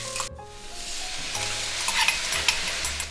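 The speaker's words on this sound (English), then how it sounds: "I'm stirring this to make sure I'm covering each individual cauliflower floret with all the seasonings" Cauliflower florets with garlic, ginger and chilies stir-fry in a hot wok, a continuous close sizzle with the scrape and clatter of stirring, steady throughout.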